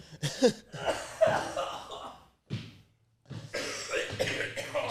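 Harsh, close coughs come in a quick cluster, then after a short silence a longer, rougher round of coughing follows.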